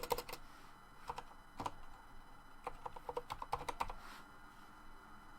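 Typing and backspacing on a computer keyboard while entering a URL, with quick clusters of light clacking keystrokes separated by short pauses, close and clear over a faint background hiss.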